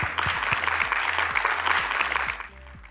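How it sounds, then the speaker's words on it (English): Conference audience applauding a speaker coming on stage at a fintech event, a brief burst of clapping over a rhythmic low beat of stage music, fading near the end. "A big round of applause for Ian"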